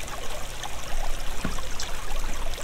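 Steady stream of flowing water from the block-building game Minetest, a continuous broadband trickle and gurgle at moderate level, running alone without voices for the whole stretch.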